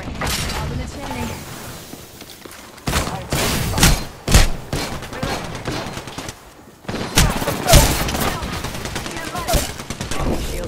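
Loud, dense gunfire in Apex Legends, with rapid overlapping bursts and heavy thumps in quick succession, a short lull midway, then more sustained shooting, all mixed with game voice lines.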